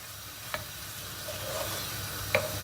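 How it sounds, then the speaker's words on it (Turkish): Flour and minced meat being stirred together in a hot pan: a soft continuous sizzle with two sharp scrapes of a spoon against the pan, near and fairly quiet, no voices. "Unumuzu kıymayla beraber bir karıştırıyoruz."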